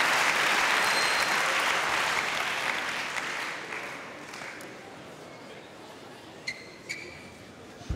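A dense wave of applause from a badminton crowd at a mixed doubles final swells loud, then thins and fades over several seconds, with a few shouts and a commentator's voice in the background.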